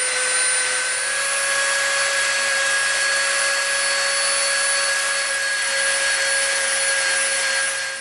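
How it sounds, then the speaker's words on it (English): A Dremel rotary tool rounds the edges of an EVA foam stand, making a steady high-pitched whine that holds constant and loud at close range throughout, with no talking. "We're going to Dremel some of the cradle just to round the edges off so there's a smoother detail."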